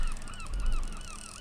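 A flock of seagulls calls in a video game, a steady chorus of repeated honking cries layered over each other at moderate loudness against a continuous ambient background, with no talking.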